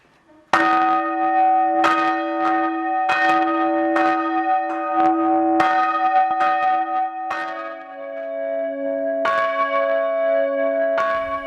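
Hand-rung church bells at St Barts ring out loudly in a steady, overlapping sequence of struck tones, each peal ringing on and decaying as the next begins, with no voices.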